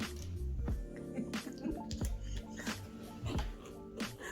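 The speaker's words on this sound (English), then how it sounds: "Drink the hell out of that goddamn water." Water gulped from a bottle, with wet squishing swallows and drips repeating every second or so, close and fairly loud.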